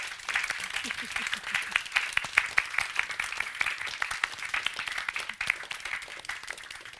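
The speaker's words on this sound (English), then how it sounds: "Can we have a big round of applause?" Applause from an audience thanking speakers at the close of an event, a moderately loud patter of clapping with distinct sharp claps and some voices mixed in underneath.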